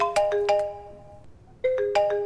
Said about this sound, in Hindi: Some bad guy is calling.